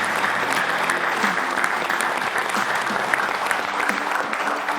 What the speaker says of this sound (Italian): allora un applauso a Genova Calcio